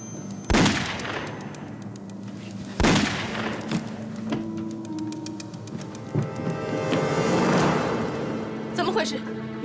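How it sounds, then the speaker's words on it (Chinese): Gunshots ring out in a Chinese spy war film: two sharp, loud cracks a couple of seconds apart, then further fainter shots under a tense musical background. "有枪声。"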